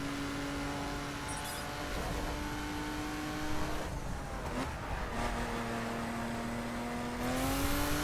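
A BMW Z4 engine in the video game The Crew hums at a moderate, fairly quiet level, its pitch rising and dropping as the car accelerates and eases off through corners.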